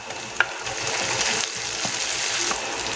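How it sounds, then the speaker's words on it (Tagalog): Garlic and onion sautéing in hot oil, a loud steady sizzle close by with a few sharp clicks and stirring scrapes, no talk. "Gisa natin yung bawang, sibuyas,"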